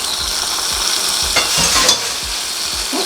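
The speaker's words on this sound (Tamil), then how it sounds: "இப்போ முந்திரியை வறுத்து எடுத்துக்கலாம்." Cashews sizzle and crackle in hot oil, with steady frying hiss and occasional stirring scrapes, close by and continuous.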